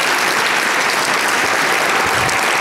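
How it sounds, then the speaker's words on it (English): Dense, loud applause from an evening audience at a startup incubator event honoring mentors and coaches, a continuous wash of many hands clapping without pause. "I'd like to give a big round of applause to our mentors and coaches from this past year."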